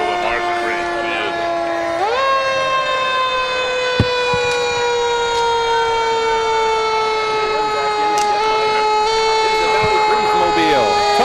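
Sirens from vehicles in a July 4th parade, a loud steady wailing tone that rises in pitch and holds, with a crowd and talking underneath.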